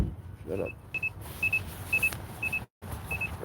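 Car warning chime beeping because the headlights were left on, short paired electronic beeps repeating at a steady rhythm over low cabin rumble, with faint background noise.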